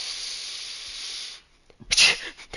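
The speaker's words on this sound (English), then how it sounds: "That was a sneeze." A single sharp sneeze comes after a breathy hiss fades out, loud and close, with a quick burst at its peak and brief trailing noise.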